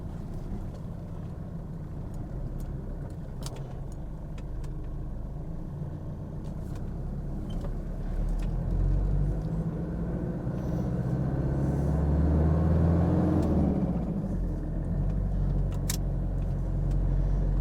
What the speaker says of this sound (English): So here we are driving the 1991 Toyota Hilux LN106, and that's a solid axle double cab Toyota Hilux.